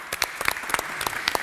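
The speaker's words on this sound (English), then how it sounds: "a round of applause to Josie at the beginning for her work in making this happen." A small audience claps in a round of applause at an expert panel on plastics, with distinct individual claps close by.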